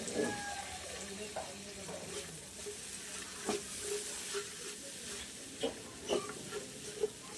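Onions and garlic sauté in a pan with a steady, fairly faint sizzle and hiss, while a utensil stirs them and gives occasional scraping clicks and knocks.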